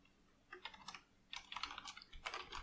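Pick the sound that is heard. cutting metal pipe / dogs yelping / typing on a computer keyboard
typing on a computer keyboard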